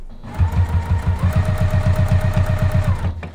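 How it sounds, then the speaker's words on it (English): A sewing machine stitching a quilted pot holder runs steadily at close range, its needle thumping in a fast, even rhythm for about three seconds with a faint motor whine underneath, no talking. "We're gonna sew till we're 1/4 inch away from this other edge."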